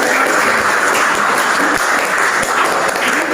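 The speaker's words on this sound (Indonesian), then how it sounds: "Tepuk tangan." A classroom of students bursts into a short, loud round of applause, dense and continuous clapping from start to finish with no talking over it.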